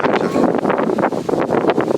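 Gusty wind rushes and buffets the microphone in uneven bursts, loud and close for a couple of seconds.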